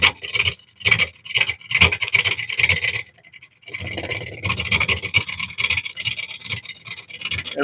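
A wood lathe turning a juniper piece, the tool taking delicate cuts in repeated rasping, scratchy bursts, close and fairly loud, with a brief pause partway before a steadier scraping run resumes.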